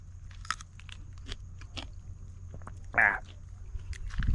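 Wild karvanda berries bitten and chewed outdoors in a forest, giving a few soft crunchy bites and one louder crunch near the mic, set against a steady low background hum.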